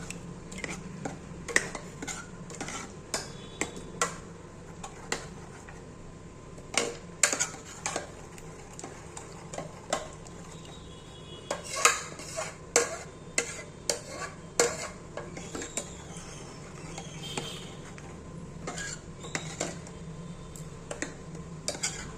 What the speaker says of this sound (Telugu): చూడండి ఇలా బాగా కలుపుకోవాలి